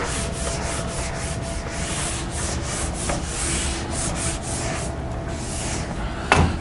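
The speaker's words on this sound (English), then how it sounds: "So I'm going to clear the board here." A classroom board is wiped in steady, repeated rubbing strokes, close and continuous, with a bump near the end.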